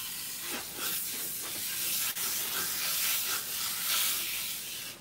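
Water spraying steadily from a salon nozzle while product is rinsed out of natural gray hair, a continuous broadband hiss with slight fluctuations as the stream moves over the hair, close and even throughout.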